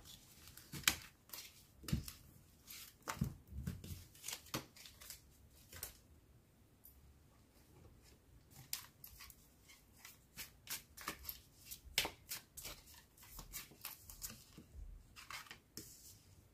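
Tarot cards are shuffled by hand in a quiet room: repeated soft riffling and slapping bursts in an irregular rhythm, fairly faint and close, with no talk.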